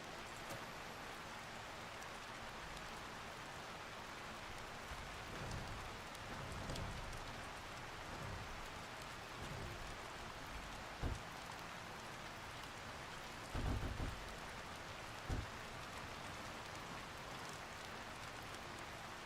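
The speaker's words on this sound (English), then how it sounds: "Another rainy day." Steady rain patters in the Blacksmith Master video game as an even, hissing wash, with a few faint low rumbles and soft thumps breaking through now and then.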